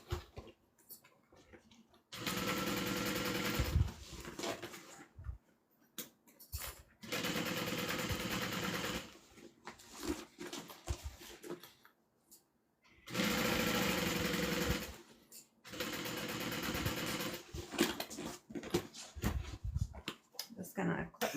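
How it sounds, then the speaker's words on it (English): Sewing machine stitching slowly around a large bag with handles, running in several steady bursts of a few seconds each with short pauses between them. "I'm not accidentally sewing over like those handles while I'm going around. So I'm just going to go kind of slow."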